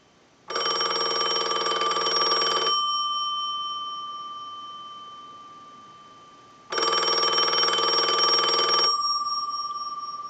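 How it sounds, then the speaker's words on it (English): A telephone bell rings in two long electronic bursts separated by a pause of several seconds, loud and close, with no talking. "send a ring cycle like you were getting a call"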